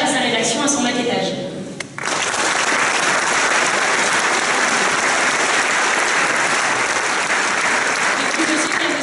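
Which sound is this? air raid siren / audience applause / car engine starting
audience applause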